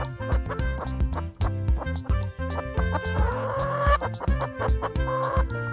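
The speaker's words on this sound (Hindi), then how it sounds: "हैन को हिंदी में मुर्गी कहते हैं।" A hen clucks in close, rhythmic bursts of short notes, loud and alone with no voices, now and then rising into a more drawn-out, squawking call.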